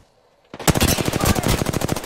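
Rapid automatic gunfire from a shooter in Apex Legends bursts in after a brief quiet and keeps going as a loud, dense stream of shots.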